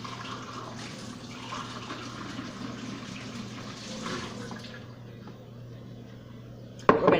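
A measuring cup being rinsed under a running kitchen tap, with a steady splashing water stream that stops near the end, followed by a brief clatter.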